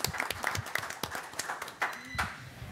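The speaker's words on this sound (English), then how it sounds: "Let's all give him a round of applause." A city commission meeting audience gives a short round of clapping, scattered claps mixed with a voice talking over them.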